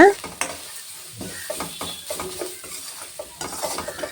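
Grated coconut being stir-fried in a pan for a ridge gourd peel chutney, with a steady soft sizzle and repeated scraping strokes of a spoon, close and alone without any talk.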